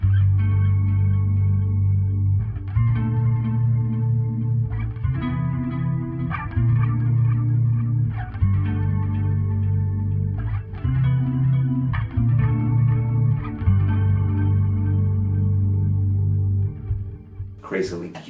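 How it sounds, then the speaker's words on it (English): Bass guitar played through a sub-octave pedal and a Corona chorus with distortion, giving thick, warbling, effected tones in a run of phrases with short gaps, loud and close, alone until a brief burst near the end. "paired with uh, the sub and up and the Corona chorus, you can really get crazy tones."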